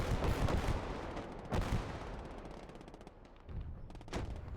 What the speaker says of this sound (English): this is where we get hit by rocket artillery